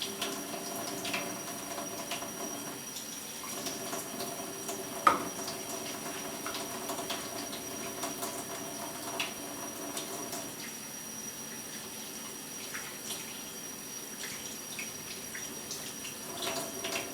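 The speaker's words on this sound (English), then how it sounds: "let me wash my hand first because I touched cash earlier there" Hands being washed under a running tap, with homemade coconut and olive oil soap nearby: a steady, moderately loud stream of water splashing continuously, with one brief clunk partway through.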